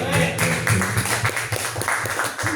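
An audience applauds a presenter, Bu Esti, at an Indonesian teachers' session, with dense close clapping that runs throughout, a voice speaking over it.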